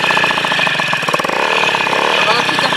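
A hot motorcycle engine starts after a ride and runs loud and close in a fast, pulsing beat, like a hammering idle that wavers unevenly toward the end.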